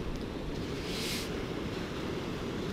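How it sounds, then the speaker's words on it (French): Ocean waves washing onto a beach with a rising tide, a constant low roar mixed with wind buffeting the microphone and a brief brighter hiss of surf near the start. "On va faire gaffe quand même que les vagues n'arrivent pas."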